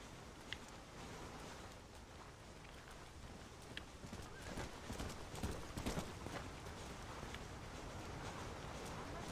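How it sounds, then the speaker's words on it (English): A white stallion's hooves clip-clop steadily as it gallops in answer to a whistle in the Red Dead Redemption video game, a continuous, fairly faint patter over soft outdoor ambience. "So now when I whistle, the stallion's coming, right?"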